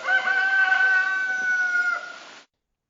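A cockerel crows once, a clear, loud, sustained harmonic call lasting about two seconds before cutting off abruptly into silence.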